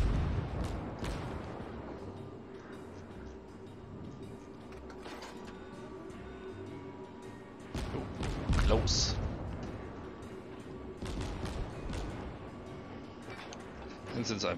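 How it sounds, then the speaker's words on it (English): Guns of the Japanese cruiser Katori fire in World of Warships, a video game, as sparse, fairly faint booming shots spaced apart over a quiet background, with someone talking between them. "I can only fire with one gun"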